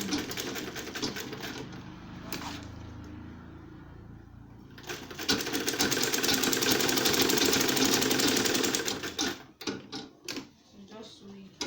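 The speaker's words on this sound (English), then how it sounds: "So I'm now going to sew it." A sewing machine stitches an insulated lunch bag, its rapid mechanical whir rising after a quieter stretch and running loud for several seconds before stopping in choppy bursts, close and alone.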